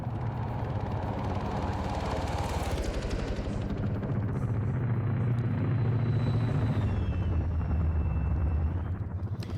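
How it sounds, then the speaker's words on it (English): Twin-rotor Chinook helicopters flying in a military video game, a loud, steady close rotor roar with low thumping that holds throughout, a thin whine rising near the end. "They're doing 2 Chinooks and an escort helicopter."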